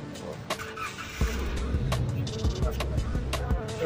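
A Daihatsu Sigra engine idles with a low, even rumble after an oil flush, a few clunks and knocks over it and faint voices in the background.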